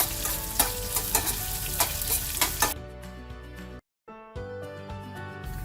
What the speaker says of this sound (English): Now we're going to cook the onions down.